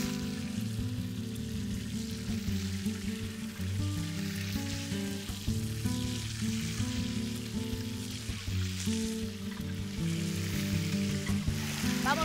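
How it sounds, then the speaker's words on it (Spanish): Chicken pieces fry with garlic in a disc pan, giving a loud, continuous sizzle and crackle at close range, steady throughout with no talking. "Voy a incorporar el pollo."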